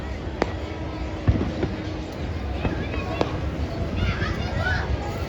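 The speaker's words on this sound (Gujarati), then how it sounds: "જોવો મિત્રો કેટલા રંગના ફટાકડા કરવામાં આવ્યા છે" Firecrackers go off at a night kite festival in Surat, a few sharp cracks and pops scattered over a few seconds amid crowd noise and voices.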